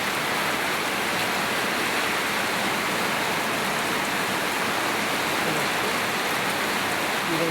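Heavy typhoon rain pours down steadily in a dense, loud, continuous wash of noise, close and unbroken throughout, with no voices.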